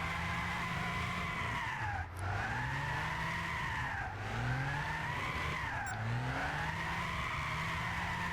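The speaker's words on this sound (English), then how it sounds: "So it definitely has enough power to make the wheel slide" Tires squeal and slide continuously as a modified Lotus Carlton drifts in Gran Turismo 6, with engine revs rising and falling beneath steady, loud screeching and brief dips around each transition.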